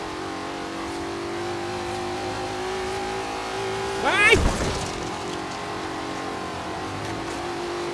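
A car in the Forza Horizon 3 racing game holds a steady engine drone, then a sharp revving, skidding surge around the middle before settling back, with a brief voice exclamation over it.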